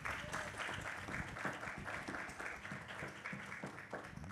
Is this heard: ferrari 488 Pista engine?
no